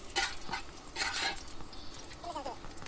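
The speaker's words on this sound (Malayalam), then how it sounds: "പെരിഞ്ചീരകമൊക്കെ ഒന്ന് പൊട്ടി വരണം ആദ്യം." Fennel seeds crackle in hot ghee and dalda with cinnamon, cloves and cardamom, a soft, faint sizzle broken by a few short scraping stirs in the pan.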